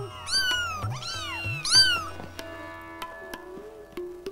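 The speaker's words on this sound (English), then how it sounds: "These part leopard, part domestic cats are called Bengals." Bengal cats, a part leopard, part domestic breed from an Asian leopard cat cross, give several loud, close meows in quick succession, followed by softer cat calls and light knocking sounds.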